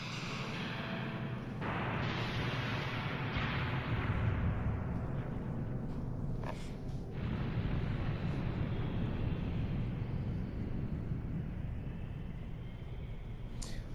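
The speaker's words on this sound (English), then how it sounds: "this is pretty good timing for the bomb to go off." A bomb blast in Final Fantasy VII roars as a long, heavy rumbling wash of explosion noise, sustained and dense throughout with a few sharper crackling bursts mixed in.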